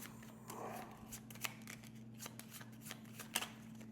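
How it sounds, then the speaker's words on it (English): Cards from The Old King's Crown board game being shuffled during solo play, quiet crisp papery slides and snaps in an irregular rhythm, close by over a steady low hum. "Shuffle them."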